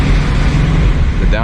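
A loud supercharged Ford Mustang engine roars close by, with a brief rising blip near the end like a downshift.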